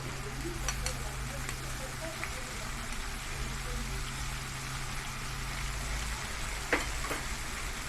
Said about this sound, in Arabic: بعد الفراخ ما البصل ما يتشوح شويه كده ويدبل